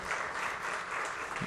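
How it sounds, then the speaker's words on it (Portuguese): Faint, distant applause during a formal ceremonial session honouring a family, a thin continuous patter of clapping with no voices standing out. "Uma salva de palmas para a senhora Vânia de Almeida Ferreira"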